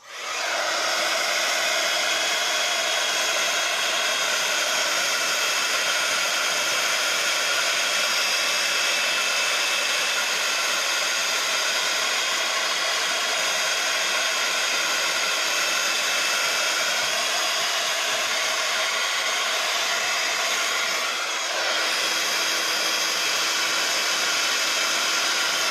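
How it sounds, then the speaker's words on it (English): Heat gun blowing hot air during a craft session, a steady, loud, even whoosh held for over twenty seconds with a brief dip near the end and no talking. "Oh, the heat gun's just here."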